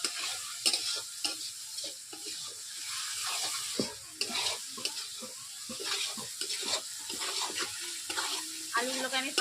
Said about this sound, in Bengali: আলুগুলোকে আমি 5 মিনিট কষিয়ে নিয়েছি।